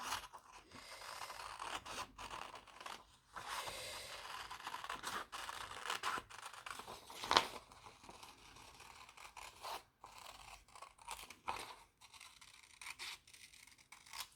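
Scissors snip and rustle through a paper pop-up Christmas tree card in a quiet room, faint irregular cuts and paper rubbing heard close, with no talk.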